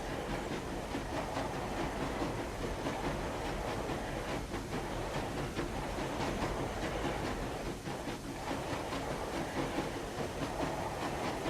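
A video-game locomotive climbs uphill, its steady rumbling roar and faint rhythmic clatter running continuously and fairly loud throughout, with no talking.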